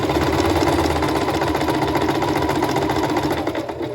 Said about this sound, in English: So I'm gonna back stitch a few and then forward stitch, continue forward stitching.